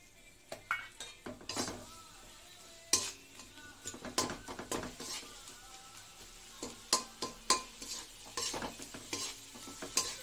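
Garlic, fenugreek and spices stir-fry in hot oil while a spatula scrapes and knocks against the pan in an uneven rhythm over a steady low sizzle, close and fairly quiet.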